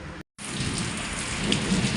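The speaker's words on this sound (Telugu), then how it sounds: "వర్షం అయితే ఫుల్ వర్షం అండి పెద్ద వర్షం పడుతుంది" Heavy rain pours steadily with gusting wind, a dense, loud hiss of drops on surfaces that continues after a brief cut, with faint rumbles beneath.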